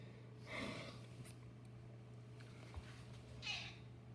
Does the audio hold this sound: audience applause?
no